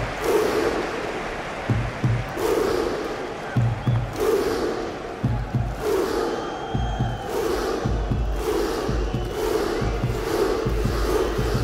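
A large football crowd cheers in FIFA 18 as Iceland fans celebrate reaching the World Cup knockout stage, a sustained roar with rhythmic chanting and repeated clapping, loud and continuous throughout.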